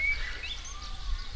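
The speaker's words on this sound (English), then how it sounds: "And the bird song here" Birdsong in the quiet village of Dufton, a few brief high chirps and whistles at a moderate distance over low rumbling background noise.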